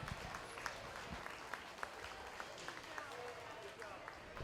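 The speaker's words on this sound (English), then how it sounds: "Let's give these kids a big round of applause." A fair crowd at a 4-H and FFA market lamb show claps steadily for the young exhibitors, a continuous patter of many hands heard from a moderate distance with no voices over it.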